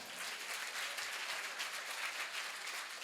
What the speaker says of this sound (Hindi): अपने लिए ही जोरदार तालियां बजाओ।